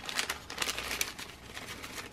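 Crinkly plastic bag of craft flowers being opened and handled, a close, continuous burst of crackling and rustling with no voices.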